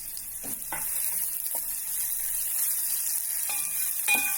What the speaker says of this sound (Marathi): त्यात आपण टाकूया कांदा आणि हिरवी मिरची